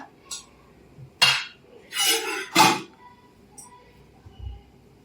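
A kadai is set down on a stove: a couple of loud, close metallic clanks and a scraping shuffle sound in a quiet room, with a few faint clinks before and after.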